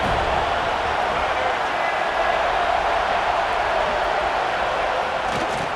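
A college football stadium crowd at Georgia versus Florida State makes a steady, dense roar, broad and continuous throughout, with no distinct surges or breaks.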